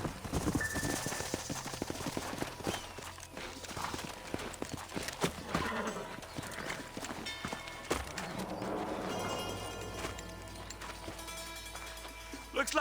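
Horses in the Red Dead Redemption 2 video game: hooves clip-clop steadily with an occasional whinny, mixed with game sound effects and voices talking over them.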